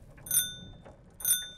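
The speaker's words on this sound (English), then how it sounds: "if you press H on a vehicle, you can use, you know, the bell or the hooter or the siren, whatever the vehicle has on it" A bicycle bell rings twice in the video game Scum, each a bright metallic ding-ding about a second apart, clear and close over a faint low rumble.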